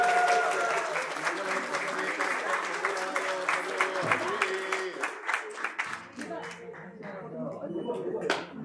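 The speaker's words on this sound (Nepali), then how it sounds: "जोरदार ताली बजाइदिनु" Wedding guests at a traditional Nepali ceremony burst into loud, sustained applause that thins out toward the end, with voices talking through and over the clapping.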